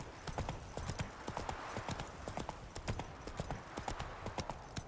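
Horse hooves clip-clop at a steady trot in The Witcher 3 video game, with a fast, even rhythm of hoofbeats that sound fairly close and clear, at a moderate level and with no talking.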